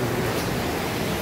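A river rushes beneath a suspension bridge at night, a dense, steady roar of flowing water filling the short stretch at close range with no pauses.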